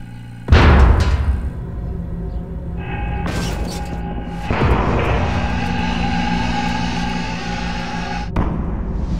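A 55-gallon steel drum gets crushed by air pressure, with a sudden loud boom, then further loud crumpling bangs and metallic groaning over several seconds.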